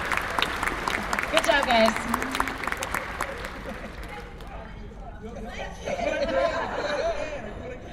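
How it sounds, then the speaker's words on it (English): Audience applause at a C2E2 comic convention Q&A panel, a broad wash of clapping in the first seconds that thins into crowd chatter, with a voice speaking over it near the microphone. "Hey, give these guys a big round of applause."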